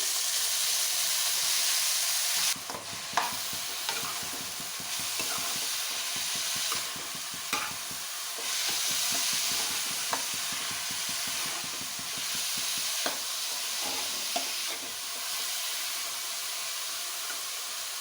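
Chopped onions frying in a pan with cumin, a continuous close sizzle and hiss with occasional clicks of stirring, steady and loud throughout.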